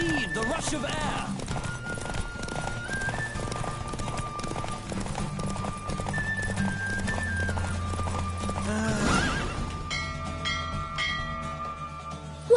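Horses in a race in the video game The Witcher 3, with hoofbeats and a neigh rising through a steady mix of game music and voices; the galloping stays continuous, loud, and close.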